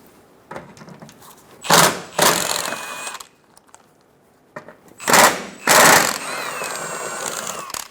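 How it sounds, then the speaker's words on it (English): A power tool spins out the four 10mm bolts holding the under tray on a Chevrolet Silverado 1500, giving several loud close whirring bursts in two groups with short pauses and small clanks between them. "Remove the four 10mm bolts for the under tray."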